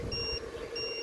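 Two short electronic beeps, evenly spaced and fairly faint, sound from model boat remote control equipment at a harbour, with steady background noise and no talk.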